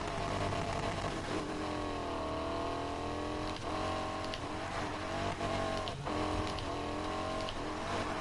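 A car drifts during a street race in Need for Speed Heat, its engine droning loud and steady with a wavering pitch and tire squeal over the top, filling the whole stretch without letting up.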